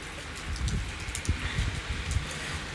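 Heavy rain falling outdoors, a constant broad hiss with scattered low thumps of drops striking nearby surfaces, steady and close with no talking.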